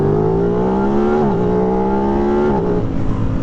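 A 2026 Aprilia RS660 Factory sport motorcycle engine revs steadily, close and loud, with its pitch rising slowly and dipping twice as the throttle changes, continuous for a few seconds with no talking.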